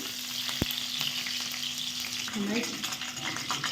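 Green chillies sizzle steadily in a hot pan, a continuous close frying hiss with a sharp tap near the start and a brief stir-like scrape partway through.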